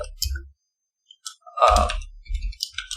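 Keys clicking on a computer keyboard while a command is typed, in short, irregular clusters of sharp taps close by, separated by brief pauses.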